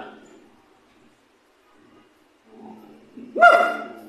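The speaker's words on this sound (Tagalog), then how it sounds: "Sumasagot po yung aso rito." A dog barks once or twice in the background, a short sharp yelp that rises briefly above a quiet room, after a stretch of near silence.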